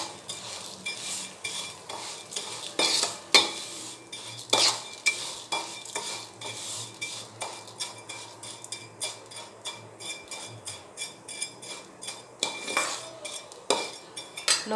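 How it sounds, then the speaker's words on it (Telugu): A spoon stirs vermicelli frying in melted ghee in a metal pan. Close, irregular scraping and clinking runs over a soft low sizzle, with no talking. "ఆ సేమియాని మనం నెయ్యిలో వేయించేసుకుందాం."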